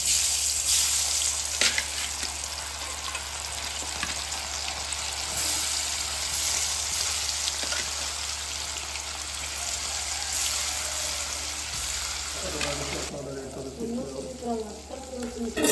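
Marinated anchovies fry in hot oil, a dense, even, rain-like sizzle held close and steady for most of the time, then easing as a voice begins speaking near the end.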